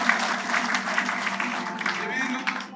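Church congregation at a year-end prayer service clapping together, a dense rhythmic applause that holds steady for about three seconds, with voices mixed in beneath it.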